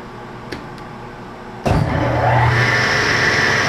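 SCMI Formula T1 woodworking shaper motor switches on after a couple of faint clicks, jumping into a loud steady whir whose pitch climbs as the spindle comes up to speed, close and with no talk.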